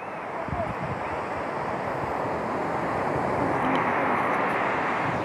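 Surf at Tajpur beach, with fishing boats drawn up on the sand, gives a steady, broad wash of breaking waves that slowly grows louder, mixed with gusty wind rumbling on the microphone.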